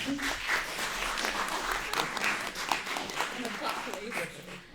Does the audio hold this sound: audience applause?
yes